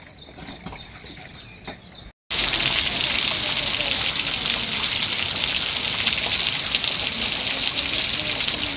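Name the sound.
rain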